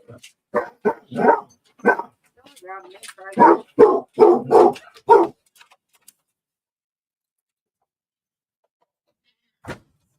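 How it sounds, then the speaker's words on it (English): Two or more dogs bark in a tight cluster of sharp, loud yaps over about five seconds, then quiet follows, with one last faint thump near the end. "I got two more dogs that want to go out."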